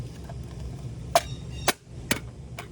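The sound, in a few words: brake cover being tapped into place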